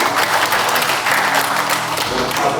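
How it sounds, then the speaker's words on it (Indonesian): A seated crowd at a regional assembly and inauguration ceremony in Denpasar claps for the organizing committee, a loud, continuous wash of applause with a low hum underneath. "Kita beri tepuk tangan untuk panitia"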